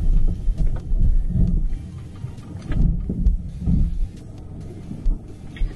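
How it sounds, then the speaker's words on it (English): A Land Rover Discovery creeps down a loose gravel hill with a low rumbling drive and irregular crunching thumps from the tyres, close and uneven in loudness, with no talking. "the Discovery negotiates the hill with no bother at all"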